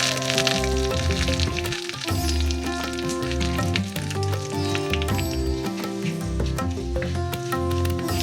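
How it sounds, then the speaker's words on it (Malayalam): Mustard seeds, two dried red chillies and a sprig of curry leaves splutter in hot coconut oil for a Kerala-style egg curry, giving loud, dense crackling and popping throughout with a steady sizzle. "അതിലേക്ക് ഒരു 1/2 ടീസ്പൂൺ കടുക് ഇടുന്നു, 2 ഉണക്കമുളക്, ഒരു തണ്ട് കറിവേപ്പില"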